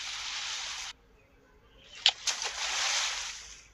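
Water gushes and sloshes in a rushing hiss that cuts off abruptly, leaving a quiet gap before a couple of splashy hits bring the steady pouring back.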